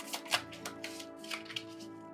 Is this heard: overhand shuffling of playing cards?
yes